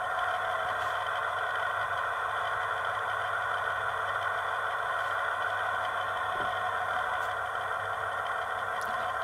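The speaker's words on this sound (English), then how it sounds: "Diesel primer." The diesel primer sound on a DCC sound-fitted model diesel locomotive plays as a steady mechanical hum with a faint rattle. It runs evenly for about nine seconds at a moderate level, with no talking.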